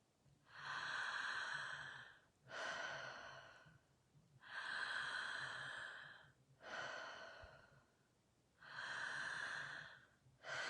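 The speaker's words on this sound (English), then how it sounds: "Keep breathing through it." Slow, deep breathing during a guided session: five long, close breaths alternating between inhale and exhale, each about two seconds with brief pauses between, with no talk.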